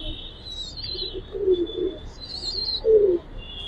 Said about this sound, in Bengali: এলআরবি লফটের কবুতর আমি মাদিটা দেখাই দিচ্ছি।